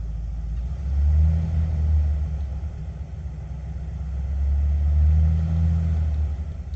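A Chevy C50 dump truck's engine runs close by with a deep steady rumble, swelling twice as the revs rise and settle, with no voices.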